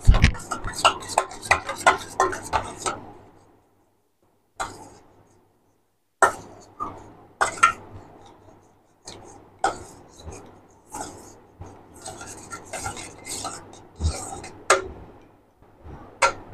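Sour yogurt being whisked in a bowl, rapid rhythmic clicking and tapping strokes in short bursts separated by pauses, close and crisp, with occasional quiet speech.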